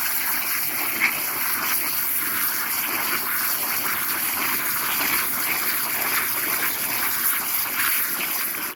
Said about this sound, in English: Rinse them a bit more. Put new vinegar in.